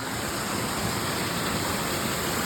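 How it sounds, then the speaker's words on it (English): Small stream flowing under a bridge on a backpacking trail near Mason Lake, Snohomish, Washington, heard as a steady, close rushing wash of water with no breaks. "little stream, the bridge. Look at that. It's like a water slide."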